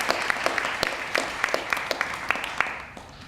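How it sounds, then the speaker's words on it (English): Applause at a 2015 Alpha Sigma Lambda honor society graduation ceremony, a modest audience clapping steadily with a few sharp, close individual claps standing out, fading slightly at the end. "let's just give her a round of applause anyway"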